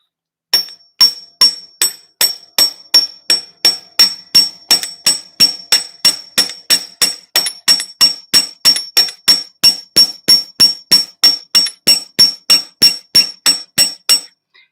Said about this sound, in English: I'm just going to hammer right here to flare out the tip of this